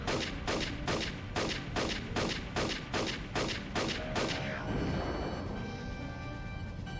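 Continuous gunfire in Army Men Sarge's Heroes 2 on the N64: a rapid, evenly spaced string of about eight sharp shots, then a ringing, fading tail with no talking.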